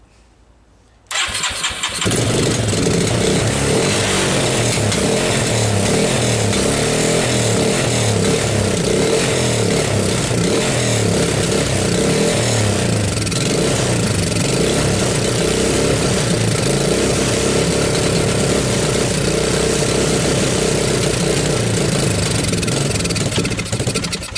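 A Suzuki Quadrunner LT230 shaft-drive ATV cranks and fires after a second of quiet, then runs in a loud, steady close-up idle with a buzzing single-cylinder drone, no talking over it.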